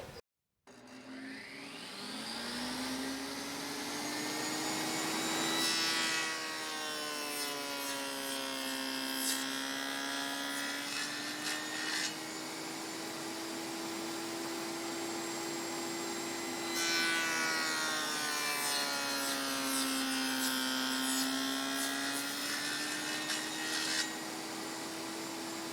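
Two long, whining cuts on a table saw fitted with a dado stack as it cuts half lap joints in wood, each a sustained steady tone with rasping bursts, separated by a quieter spin-down.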